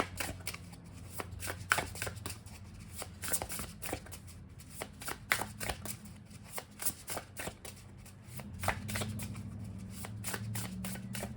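Oracle cards are shuffled close up in a quick sequence of sharp riffling snaps and slides, steady and busy throughout, with a low background hum and no speech.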